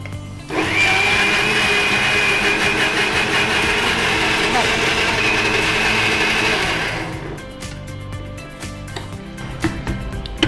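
A mixer grinder grinds dosa batter with a little salt and water, a loud, steady whirring drone that runs for about six seconds, then cuts off, leaving faint kitchen clatter and voices.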